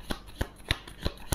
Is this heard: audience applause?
no